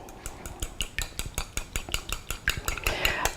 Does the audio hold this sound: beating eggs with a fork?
yes